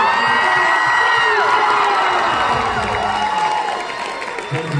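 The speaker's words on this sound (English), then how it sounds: "Guys, make some damn noise for Oliver." A loud crowd at a 9-1-1 fan convention panel in New Jersey cheers, whoops and shouts continuously. The noise stays dense and close, then eases slightly toward the end.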